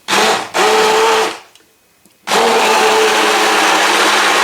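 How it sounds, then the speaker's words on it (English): Plastic stick blender whirring loudly through a sweet mango chili sauce, running in bursts with a brief pause and quiet gap before starting again steadily, close up and alone. "I'm just going to blend it all with this stick blender."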